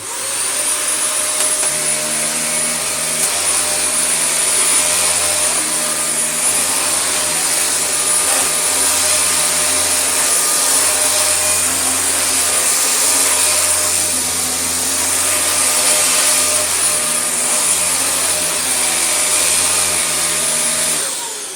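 A restored Dyson DC24 upright vacuum cleaner runs steadily with a loud whine and a rattling, loose-sounding hum underneath, continuous throughout.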